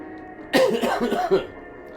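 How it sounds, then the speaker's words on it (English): A man gives a short burst of coughing, close and fairly loud, lasting about a second, with a few rough hacks run together. "Also cough."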